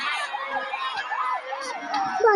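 A police siren wails in a steady rising-and-falling cycle, loud and close, heard while riding motorcycles, with engine and road noise underneath and a sharper rise at the very end.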